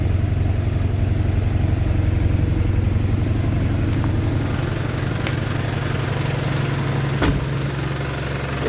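A 1996 Mazda B2500 Thunder pickup engine runs steadily at a smooth idle, a close, even low rumble with a fine repeating pulse and faint whir throughout, with no talking.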